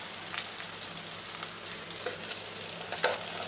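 Onions sauté in a pan for a horse gram chutney, a soft continuous sizzle with light stirring clicks and scrapes throughout, close and fairly quiet, with no talking.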